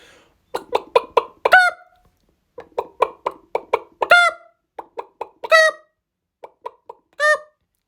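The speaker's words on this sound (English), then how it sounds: "We've got the chickens" Chickens cluck in quick bursts of short, sharp notes with a few longer rising squawks, close and loud against a quiet background.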